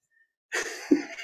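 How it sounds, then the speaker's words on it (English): A single short, explosive cough blending into a laugh, a man's cough-laugh at his desk, sounding close and fairly loud after a moment of silence, with breathy laughter trailing off. "It was like a cough laugh."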